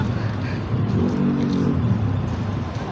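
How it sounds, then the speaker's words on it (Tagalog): A car passes on a road at night, with an engine hum that swells and fades over a few seconds. "May sasakyan, pre."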